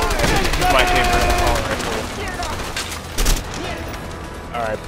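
Gunfire from the player's gun in the video game A Way Out, rapid bursts over a dense mix of game sounds and music, with a louder crack near the middle and a voice talking over it.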